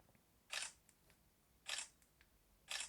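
Three crisp Galaxy Z Flip camera shutter clicks, each sharp and close, spaced about a second apart, in an otherwise quiet room.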